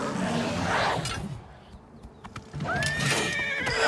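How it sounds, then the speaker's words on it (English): A horse in the video game Oblivion Remastered whinnies loudly after being shot, a rising neigh following a noisy stretch of gameplay, with clip-clop hoofbeats and no talk over it. "I shot the horse."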